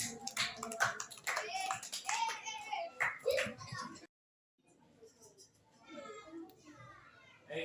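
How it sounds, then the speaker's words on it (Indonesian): A group of children claps and chatters in a classroom, with loud young voices and busy hand noise at first, a brief hush, then a softer round of scattered clapping and talk. "Tepuk tangan utamanya"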